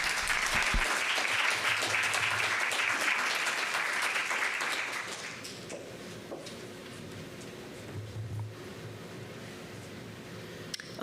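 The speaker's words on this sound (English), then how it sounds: "let's give Stephanie one last round of applause." Conference attendees applaud a research talk with steady, full clapping for about five seconds before it fades into quieter room noise and a few scattered claps.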